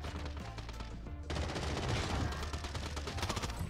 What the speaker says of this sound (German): Sniper wieder.